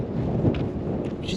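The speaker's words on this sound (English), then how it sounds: "I knew there's a storm coming." Thunder from an approaching storm rumbles low and continuously near Barking Riverside station in London, a deep rolling roar with faint rain-like hiss above it.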